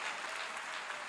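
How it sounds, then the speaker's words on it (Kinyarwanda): A church congregation applauding during a sermon, a brief, soft, distant patter of clapping. "Komera Imana amashyi."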